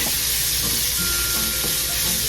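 Onions sizzling loudly in a pan for pancit bihon, a dense, continuous close-up crackle with faint rhythmic stirring underneath and no one talking.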